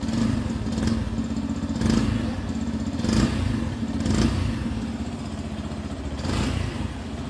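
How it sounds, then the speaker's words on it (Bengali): A Yamaha FZ-S 4.0 motorcycle's exhaust rumbles close by, with a steady idle broken by several short throttle blips that rise and fall at a roughly even pace. No one speaks. "এর এক্সস্ট সাউন্ডকে একবার শোনা যাক।"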